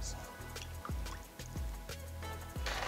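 Saffron water is poured over the top rice layer of a kacchi biryani made with ghee and milk, giving faint, irregular drips and small liquid splashes at close range over a low background hum.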